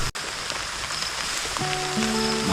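Light drizzle falls outdoors on the way to a banana farm, a soft steady hiss throughout, joined by low sustained tones in the second half.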